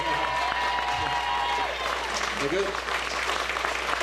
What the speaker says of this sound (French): il mérite une main d'applaudissement